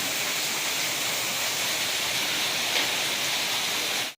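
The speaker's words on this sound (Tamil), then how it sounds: "மழைனா மழை அவ்வளோ மழை" Heavy rain pours steadily during a storm at a house, a dense unbroken hiss that stays loud and even throughout before cutting off at the end.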